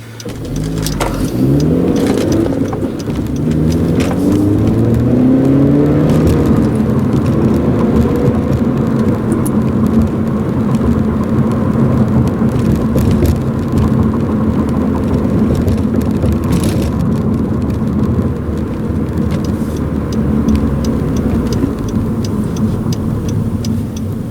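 A 2014 Honda Civic Si engine revs up and settles into a steady, smooth drone while driving, with road noise running underneath throughout.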